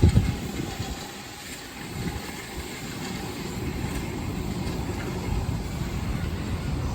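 Steady low rumbling machinery with a broad hiss, a continuous mechanical drone close by throughout, no voices; a tractor pulling a seed drill sowing wheat, throwing up heavy dust.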